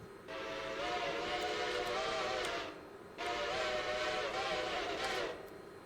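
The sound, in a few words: steam locomotive whistle in the video game Railroader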